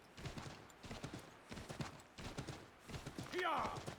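Rhythmic clip-clop of a glitchy horse's hooves in Assassin's Creed 3, with repeated close clattering steps, a brief whinny near the end, and speech mixed in.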